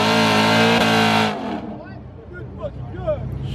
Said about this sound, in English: That Camaro is spinning.